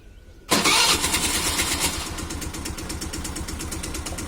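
New-model Hero Maestro scooter with a previous starting problem fires up after a brief starter crank, then settles into a steady close idle with a rapid ticking valve rhythm.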